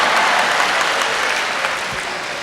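Full, sustained clapping from a crowd at a Tamil speech, dense and loud and fading slightly toward the end.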